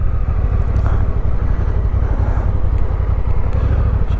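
A Honda NT1100 motorcycle engine rumbles steadily up close, its low throbbing idle holding constant with some wind buffeting.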